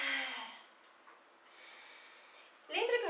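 A slow, deep breath drawn in during a guided abdominal oblique breathing exercise, soft and airy at first, then quieter, ending with a sharper, louder rush of breath near the close.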